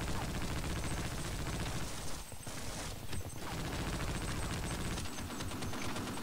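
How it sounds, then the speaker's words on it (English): A machine gun in Half-Life: Opposing Force fires in dense, rapid bursts of shots. The fire is loud and nearly continuous, with short pauses between bursts. "This is a machine gun?"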